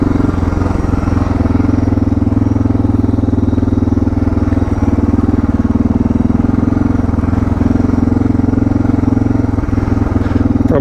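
A Suzuki DR650 motorcycle rides on an adventure ride through the Glass House Mountains, its loud single-cylinder engine thumping steadily and close throughout with wind noise.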